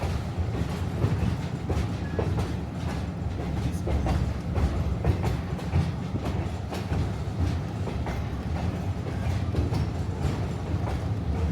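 Mountain train ride near Leadville, Colorado: a continuous loud rumble with rapid, rhythmic clickety-clack of wheels over rail joints, sustained and close throughout.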